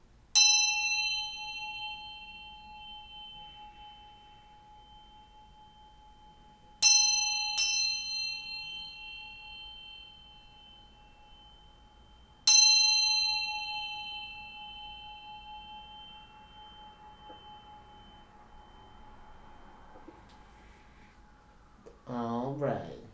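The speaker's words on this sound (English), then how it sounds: "I'm going to ring this bell a couple times to bring in some good vibes" A single bell struck by hand rings out four times, with clear sustained tones that slowly decay in a quiet room between strikes. Someone talks faintly in the background.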